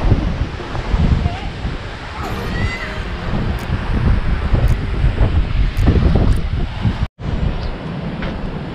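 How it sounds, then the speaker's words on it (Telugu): Sea waves and strong wind at the Kanyakumari shore rumble and wash continuously, with gusts buffeting the microphone, over about nine seconds. "సముద్రం"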